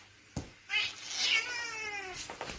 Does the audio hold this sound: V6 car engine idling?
no